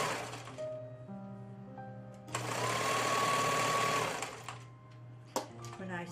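A sewing machine stitches fabric for a drain bag pillow, starting with short runs then a steady loud whirring burst of about two seconds, ending with a few clicks; someone speaks quietly before and after.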